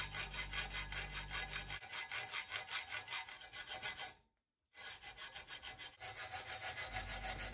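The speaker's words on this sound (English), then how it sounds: "Then I use my hacksaw and I cut down the line, separating the crankcase into two pieces." Hacksaw cutting through a metal Kawasaki S1 four-cylinder motorcycle crankcase, close and rhythmic with rapid back-and-forth rasping strokes, a brief pause of silence midway before the steady sawing resumes.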